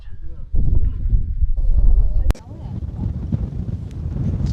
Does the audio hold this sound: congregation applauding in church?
no